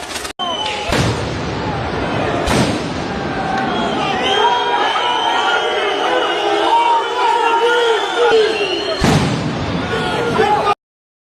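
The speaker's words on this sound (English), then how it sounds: "Look at the crowd throwing the Molotovs, man." A crowd shouts and cheers loudly while Molotovs are thrown at a burning house, with sharp bursts and slams punctuating continuous roaring noise.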